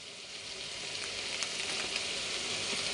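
Turmeric and cumin powder sizzle in hot oil with peas for a pea curry, a steady close frying hiss with occasional sharper crackles as the mix is stirred.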